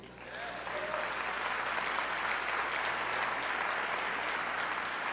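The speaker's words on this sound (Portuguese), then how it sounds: "Podemos aplaudi-lo." A congregation applauds at a São Paulo church gathering, the clapping swelling quickly from a soft start into a loud, even wash of many hands that holds steadily to the end.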